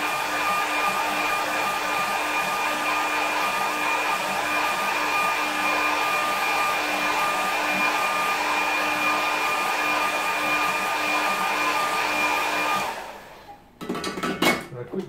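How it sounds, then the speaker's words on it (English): A hair dryer blows steadily on a watercolour painting of a rocky coastline, a loud continuous whine that runs for several seconds before cutting off, followed by brief clattering handling sounds. "With the hairdryer rather."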